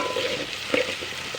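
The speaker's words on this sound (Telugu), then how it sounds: "మంచిగా వేగాలి, ఈ క్యారెట్ కొద్దిగా ఉడకాలి." Carrots and other vegetables sizzle steadily in a pan for oats upma, with a few stirring scrapes over the constant frying hiss, close and moderately loud.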